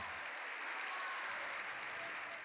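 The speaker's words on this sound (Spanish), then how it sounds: "Una ovación de récord ha reconocido el valor de esta histórica intervención" A large audience in the Spanish Congress gives a long, record ovation after a historic address, dense continuous clapping heard faintly and at a distance, alone without voices.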